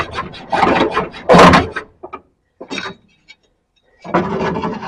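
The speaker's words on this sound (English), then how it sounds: "I only have to join those two cuts up with the hacksaw." A hacksaw cuts through a metal cage on a Series Land Rover, with a few rough rasping strokes in uneven bursts separated by pauses, close and fairly loud.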